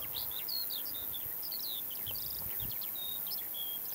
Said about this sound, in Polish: szum wiatru, śpiew ptaków.